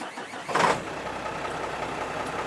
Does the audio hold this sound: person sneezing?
no